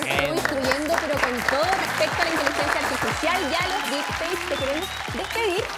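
Studio audience applauding for the guest Igal at the close of an interview about deepfakes and artificial intelligence, sustained clapping throughout with a voice speaking over it.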